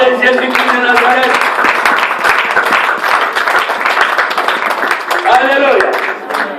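A church congregation claps steadily in acclamation of Jesus, with loud, continuous rhythmic applause filling the room while voices sing or call out over it.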